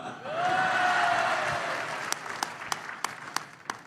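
Audience at a university event applauding ministers and a singer, a loud swell of clapping and cheering with a whoop, thinning out into a few scattered distinct claps.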